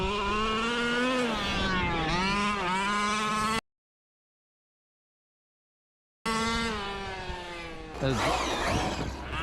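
A Team Corally Asuga XLR RC buggy running on a 6S battery, its electric motor whining up and down in pitch as it speeds and slows. The sound cuts out briefly, then the motor returns with gritty tire noise.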